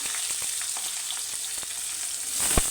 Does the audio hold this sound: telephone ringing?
no